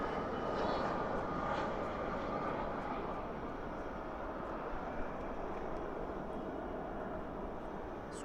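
A UPS plane lands at night at Dallas/Fort Worth with spoilers up and thrust reversers deployed, making a faint, steady distant engine rumble.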